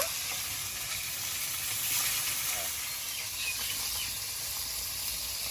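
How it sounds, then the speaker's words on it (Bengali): Bhola fish frying in oil in a pan, a steady close hiss and sizzle that runs continuously with little change in level. "এইভাবে সবগুলো আর বাকিগুলো ভেজে নেব"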